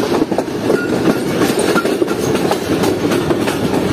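A privatized rail car train on its Lahore to Rawalpindi run rumbles loudly and steadily from close by, wheels clattering rhythmically over the track near Wazirabad Junction, with no voices.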